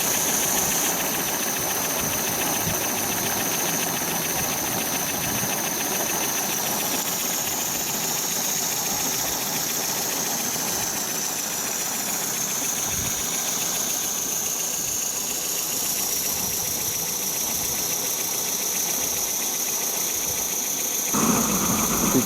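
An Accucraft GWR 43XX live steam model locomotive runs for the first time after steaming up. It gives a continuous soft hiss and a fast mechanical chuffing rattle at a steady level, close by, with no voices.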